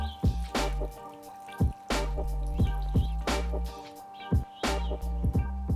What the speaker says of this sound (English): And finally to this, let's add in water.